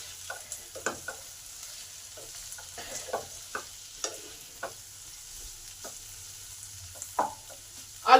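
Potatoes fry in a pan that had been covered, giving a quiet, close, soft sizzle. Repeated spatula scrapes and clinks sound at irregular intervals, with a louder knock at the very end.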